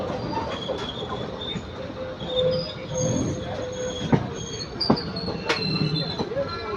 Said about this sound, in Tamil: கரெக்டான டைமிங்கில் வருதுங்க இந்த ட்ரெயின்.